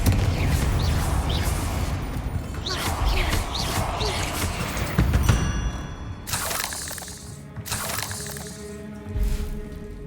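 A Confringo fire spell going off in a Hogwarts video game, with sharp cracking blasts and shattering bursts amid game effects, loud and close, with a voice calling out over part of it.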